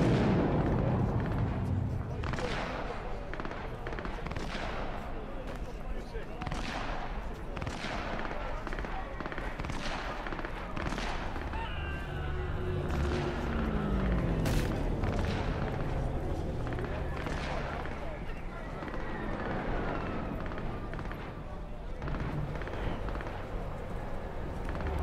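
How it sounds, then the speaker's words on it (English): Gunfire in the video game Cyberpunk 2077: a long barrage of repeated bursty shots and booms, rapid and irregular, steady and fairly loud throughout with game ambience underneath. "that's a lot of gunfire, that's really awkward"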